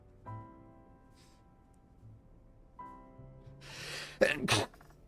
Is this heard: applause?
no